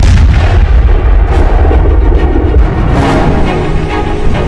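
Heavy explosions and artillery booms in the fighting between Panjshir resistance forces and the Taliban in Afghanistan, loud and continuous with gunfire rattling between the blasts and no voices.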